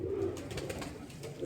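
A male pigeon held in the hand gives a low, soft, throaty coo that rumbles on faintly and steadily against a quiet background.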